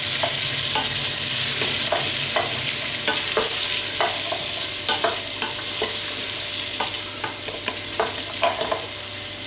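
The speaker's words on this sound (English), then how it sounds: "In with the onions and the potatoes. Give them a good stir." Onions and potatoes sizzle as they fry in a soup pot, and a utensil scrapes through them in repeated, fairly regular stirring strokes over the constant hiss.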